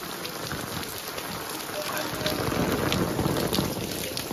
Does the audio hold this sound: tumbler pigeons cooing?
no